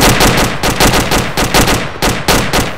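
Rapid bursts of automatic gunfire from an ARMA combat game session crackle loudly in quick repeated volleys, about a dozen sharp reports with brief gaps between them.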